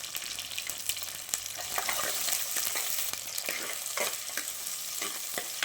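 Small shallot onions and curry leaves frying in hot oil for a Tamil dry fish curry, giving a steady loud sizzle with sharp crackles and pops and the occasional scrape of stirring throughout.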